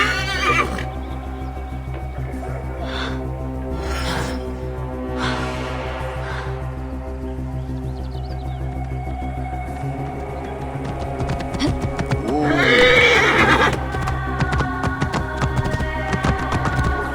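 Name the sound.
horse neighing and hooves in Assassin's Creed Origins video game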